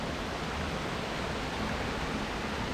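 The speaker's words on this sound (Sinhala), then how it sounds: "ලස්සන වතුර පාර." A waterfall along a mountain trail in the Knuckles range, heard as a steady broadband rush of falling water, constant and even in loudness with no other sounds.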